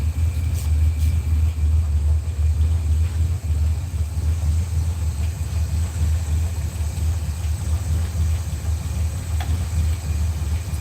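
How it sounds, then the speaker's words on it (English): A 1955 Ford Popular engine idles on its first start in over ten years, a deep, steady rumble, close and loud, holding an even rhythm throughout without any revving. "Listen to the idle"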